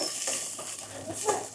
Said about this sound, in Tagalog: Gisa na po natin yung bawang, luya, sibuyas.